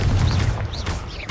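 A Confringo blasting curse going off in Hogwarts Legacy, heard as a loud, dense burst of rumbling booms with whooshing swept tones on top, all compressed into little more than a second.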